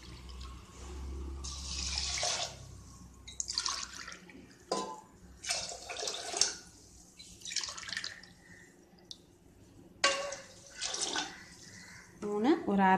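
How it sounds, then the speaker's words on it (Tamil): Water is poured in several separate tumblerfuls onto rice in a pressure cooker in a home kitchen, with soft splashing pours alternating with quiet gaps and someone speaking between them. "ஒரு டம்ளர்னால் 3 டம்ளர் தண்ணி ஊற்றிக்கலாம்."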